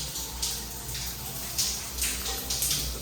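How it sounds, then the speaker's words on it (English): A home shower runs with a steady hiss of spraying water, broken by brief louder splashes as the stream hits something, close and continuous without any speech. "Turn the shower on."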